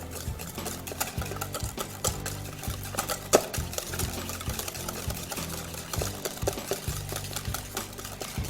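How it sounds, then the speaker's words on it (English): Carrot cake protein bar batter being mixed with Splenda in a bowl, giving repeated scraping and stirring strokes in an uneven rhythm, close and fairly quiet, with no talking. "I'm gonna mix those together."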